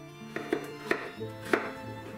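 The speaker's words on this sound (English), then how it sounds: "I will just cut in this kind of size." Knife chopping chayote into pieces on a cutting board, a handful of crisp irregular chops, close and fairly quiet, with no talking.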